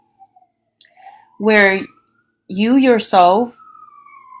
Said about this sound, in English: excuse the siren